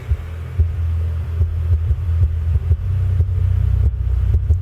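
Deep bass from a subwoofer fed through a crossover sloping off at 80 Hz, a steady, loud low-end throb with soft pulsing beats running throughout, no talking.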